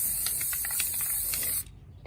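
Spray paint can hissing out pink paint onto Christmas decorations, a steady close-up spray with faint rattly bursts, cutting off sharply near the end to quiet.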